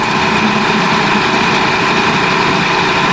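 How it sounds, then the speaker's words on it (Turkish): A car's radiator fan runs on with a steady, loud whir over the engine as it sits overheated with a suspected burnt head gasket, an unbroken drone throughout. "Bakın fan hala çalışıyor."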